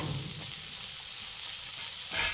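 Garlic frying in a pan for a Bengali shrimp and Malabar spinach (pui saag) dish: a steady, close sizzle that swells into a louder burst near the end.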